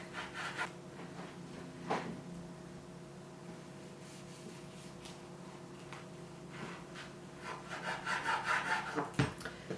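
A knife slices a sweet potato, skin on or peeled, into thick rounds on a board: a few soft, scattered cuts and scrapes over a low steady kitchen hum, fairly quiet.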